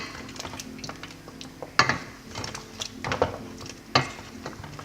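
A spoon scrapes and clinks against a pot while spice powder is stirred in for a Nigerian meal, with irregular close knocks and a soft sizzle underneath.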